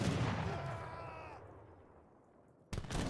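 Organ guns fire in a fantasy strategy battle game, sending out a loud rumbling burst that fades over about two seconds before another sharp blast cuts in at the end.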